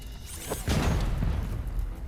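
A single small muffled boom from the video game Robocop: Rogue City, a soft low thud that rolls into a rumbling tail lasting a couple of seconds.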